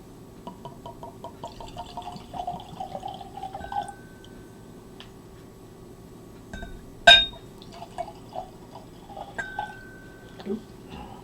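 Blended Scotch whisky glugs and trickles into a glass in short spurts, with a sharp clink of glass midway and quiet pauses between.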